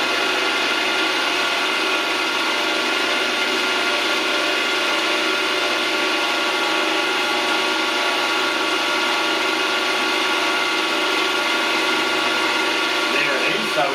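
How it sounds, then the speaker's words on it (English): A milling machine in a home machine shop runs steadily at close range, a continuous broadband motor and spindle whine with no pauses across the whole stretch. "So I'll start him up and we'll just look for our zero mark."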